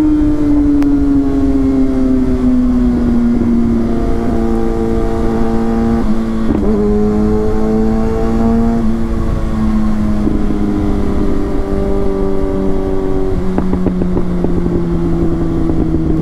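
Loud, close engine roar from 2023 Kawasaki ZX6R and Z900 sport motorcycles setting off, the pitch climbing and dropping back through several gear changes amid steady wind rush.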